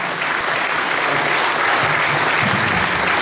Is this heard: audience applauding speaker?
yes